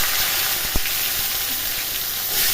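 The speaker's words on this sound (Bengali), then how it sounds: "আলু সিদ্ধ দিতে ভুলে গেছি, যার জন্য আমি আলু উচ্ছে ভাজা করে নিচ্ছি।" Potato and bitter gourd fry in a pan with a steady loud sizzle and hiss, a single sharp tap of a utensil breaking through near the start, no voices.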